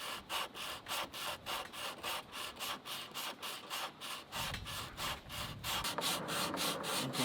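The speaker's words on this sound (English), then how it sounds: "I'm taking the wood off from down nearer the nut to start with, just so I can get the sanding block more into the" Sanding block rubbed back and forth over the wooden headstock of an Epiphone guitar, a steady run of rhythmic rasping strokes, close and fairly loud, with no voices.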